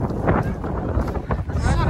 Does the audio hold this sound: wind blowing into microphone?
yes